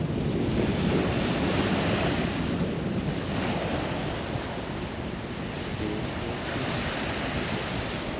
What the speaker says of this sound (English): Well, this is Munglinup Beach.